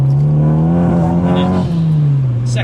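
A 280 BHP Romeo Ferraris Abarth 595 Competizione accelerates hard in second gear, a loud, close engine note rising steadily in pitch as it pulls with a raspy, buzzy exhaust.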